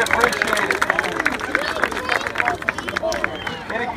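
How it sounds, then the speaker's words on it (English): Crowd at a bonfire pep rally clapping and cheering, a dense burst of applause with scattered voices, fairly loud and continuous before easing slightly toward the end. "Give them a round of applause."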